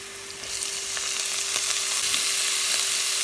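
Onion and garlic frying in a pan, a constant bright sizzle close up with soft stirring scrapes, growing slightly louder, no voices.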